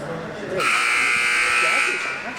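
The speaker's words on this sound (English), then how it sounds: "content to let the buzzer sound on an entertaining period number 1" An ice hockey end-of-period buzzer blares at a high school varsity rink, one loud sustained tone lasting about two seconds over arena crowd noise.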